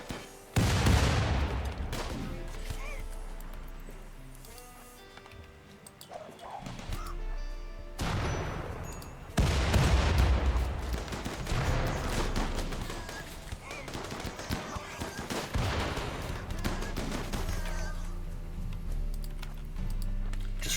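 Grenade blasts and turret gunfire hit a colony base in the video game RimWorld, loud booming impacts followed by rattling, crackling fire and clatter that continues steadily, with a voice speaking faintly under the din.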